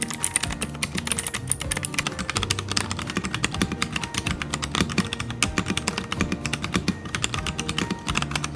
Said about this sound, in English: So let's hear how this sound like